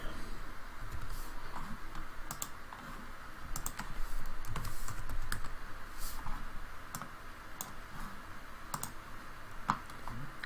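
Computer keyboard typing while spreadsheet formulas are entered, steady clicking keystrokes in irregular bursts with occasional louder taps, close and alone without talk.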